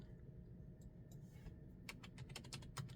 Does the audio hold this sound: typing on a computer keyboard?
yes